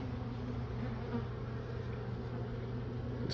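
A dense, steady buzz of honey bees fills the air at close range during a late-September hive inspection, an even, continuous hum with no voices over it.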